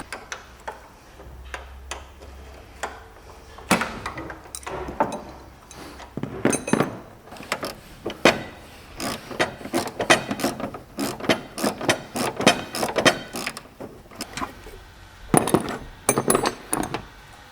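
Wrench ratcheting and clicking as strut brace plates are tightened on a car's front strut towers, bursts of close metallic ticks in irregular runs with short pauses between them.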